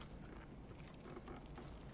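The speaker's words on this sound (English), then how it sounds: "Someone's running." Running footsteps in Escape from Tarkov, a steady stream of soft, muffled thuds at a distance, low and continuous across the whole stretch with no voices.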